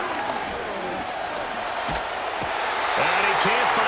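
Stadium crowd noise in an NFL video game, Vikings versus Titans, a steady murmuring roar that swells slightly near the end, with a commentator's voice talking over it.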